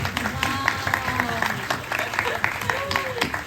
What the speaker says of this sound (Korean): 저희 보고 계신 그 모든 분들을 향해서 같이 한번 박수 한번 칠까요?